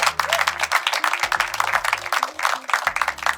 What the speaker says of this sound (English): So a quick round of applause for the selection team and all their efforts